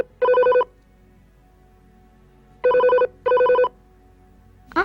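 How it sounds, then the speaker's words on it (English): A telephone bell rings in short, loud bursts with gaps between them, close by in a quiet room. "I hate it when the phone rings."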